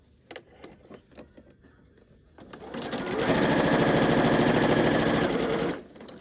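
A sewing machine stitches a form-fitting fabric face mask in a steady, loud run of rapid mechanical clatter lasting about three seconds, preceded by a few soft handling taps and rustles.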